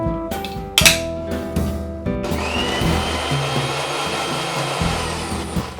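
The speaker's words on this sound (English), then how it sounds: "I'll add in little water and we will grind this into a smooth paste." A mixer grinder blends green masala paste with a little water and lemon juice, starting with a few short clattering pulses, then settling into a steady loud whirring run that continues to the end.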